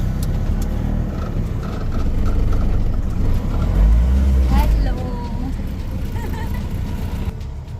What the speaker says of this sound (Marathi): आपण अण्णाच्या रिक्षामध्ये एक राऊंड मारून येऊ सर्वांना